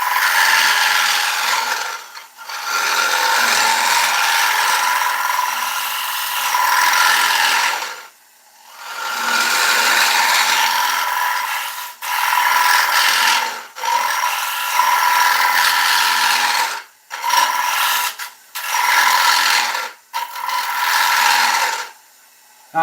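A woodturning lathe spinning at about 807 RPM while a tool makes a hollowing cut inside a British ash bowl, a loud, sustained scraping rasp in long passes, broken by several brief pauses.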